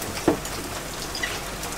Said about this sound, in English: From the shore in the pouring rain.